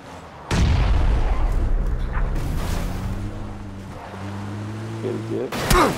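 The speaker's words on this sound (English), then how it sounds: "Oh, I just threw a grenade." A grenade blows up in PUBG, PLAYERUNKNOWN'S BATTLEGROUNDS on Xbox One X, as a single loud, close boom that trails into rumble and then engine hum, followed by another sharp burst near the end.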